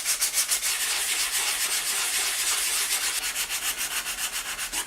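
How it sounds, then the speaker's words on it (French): A brass Louis Vuitton lock is wet-sanded with sandpaper and water, giving a close, rhythmic scratchy rubbing in quick back-and-forth strokes throughout. "je vais prendre un papier de ponçage et je vais déjà faire un premier ponçage avec un peu d'eau"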